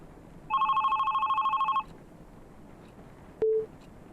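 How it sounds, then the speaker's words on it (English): Telephone ringing inside a video game: a loud electronic two-tone bell trills rapidly for about a second and a half, followed after a pause by a short single beep. "So that was our phone going off."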